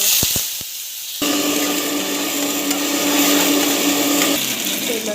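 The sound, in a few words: blender grinding coriander and tomato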